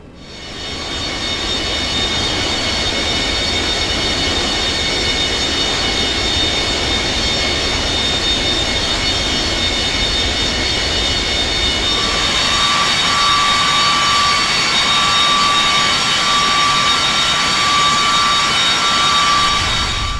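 Jet engines of a FlyJSim 727-200 in X-Plane 10 taxiing to the runway at Fresno, a loud, steady whine and rumble that holds for about twenty seconds, with a high tone that shifts partway through and no talking.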